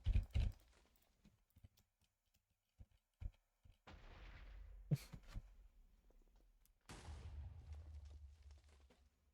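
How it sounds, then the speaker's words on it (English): Bombardment in a video game during a 3v3 party games tournament: a few sharp thumps and clicks open, then two longer bursts of rumbling explosive fire with booming low end, moderately loud and heard without talk. "So we'll play out this bombardment and then we run away."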